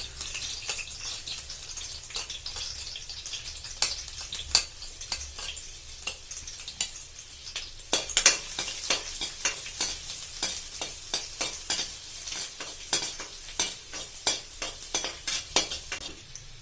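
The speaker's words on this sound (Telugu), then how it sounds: "పెట్టుకొని 2 స్పూన్ ఆయిల్ వేసుకోవాలి. వేసుకున్నాక అల్లం వెల్లుల్లి ముక్కలు వేసుకోవాలి." Ginger and garlic pieces fry in two spoons of hot oil for paneer manchurian, a steady close sizzle broken by frequent sharp clicks and scrapes of a spoon stirring the pan, with no voices.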